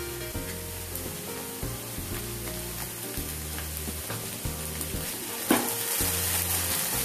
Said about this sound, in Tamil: இப்போ வந்து எடுத்து வச்சிருக்க இஞ்சி பூண்டு விழுது போட்டுங்க.